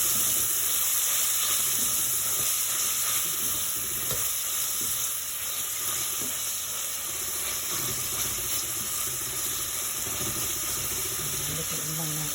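Onions and tomatoes sizzle steadily in a frying pan, a dense, continuous crackling hiss that stays loud and close for the whole stretch, with faint clinks underneath and no talking.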